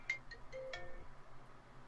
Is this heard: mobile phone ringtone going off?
yes